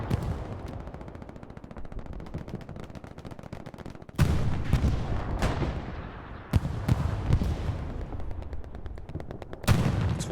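Game artillery and heavy gunfire pound away in a tournament match, rapid rattling bursts broken by several loud, sharp booming impacts, all close and dense with no talk.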